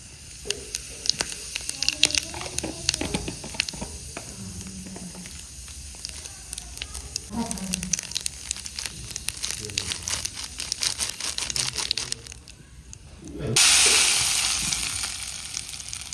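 Cumin seeds sizzle and crackle in hot mustard oil, a steady frying hiss with stirring and scraping. The hiss swells suddenly and loudly near the end as more spices hit the oil.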